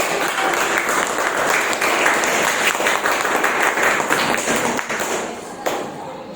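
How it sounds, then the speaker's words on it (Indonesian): A classroom of students applauding during a teacher performance assessment, a loud, dense and continuous wash of clapping that holds steady before easing slightly at the end. "Tepuk tangan untuk teman-teman."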